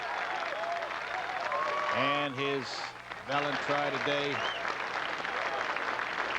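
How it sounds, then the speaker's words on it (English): A golf gallery at the 1986 Masters at Augusta applauds in tribute to a five-time champion, a steady wash of clapping heard behind a commentator talking over it. "he will hear this same applause in tribute of a 5-time master champion"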